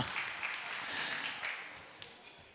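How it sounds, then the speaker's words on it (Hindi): Distant crowd applause, a soft steady patter of many hands clapping, heard fairly faint without talking over it. "काला जी आपने शंका के लिए तो तालियां बजाई"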